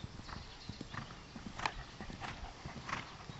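Horse ridden during a riding lesson, hooves clip-clopping in an uneven rhythm as it moves between walk and trot, fairly faint and distant, with a few soft snorts and no talk.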